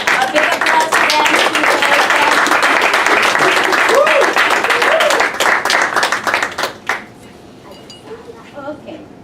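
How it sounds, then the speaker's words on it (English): Audience applause for two volunteers at a motivational talk, loud, dense clapping for about seven seconds before it thins and fades out, with a few scattered claps at the end. "A big applause for them."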